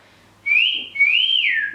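A person whistles two rising, gliding tones, a short first phrase and then a longer one that swoops up and falls away, loud and close over a faint background hum.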